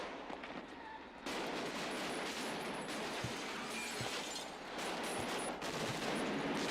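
Gunfire from a film playing on a television crackles in rapid bursts and scattered sharp reports over a dense, noisy background, moderately loud and continuous across the stretch.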